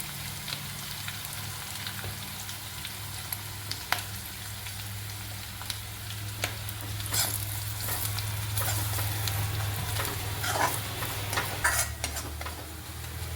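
Gram flour (besan) frying in a pan as it is stirred, a steady close sizzle with scraping stir strokes and occasional ticks throughout, no talk.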